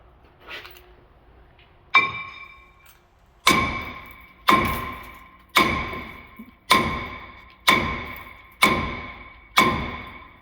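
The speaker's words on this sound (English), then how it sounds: "Give that a few whacks with the martello." Hammer striking a seized ball joint on a Ram 3500 Cummins, eight sharp metallic whacks at a steady, roughly one-second rhythm, loud and close, each ringing briefly before the next blow.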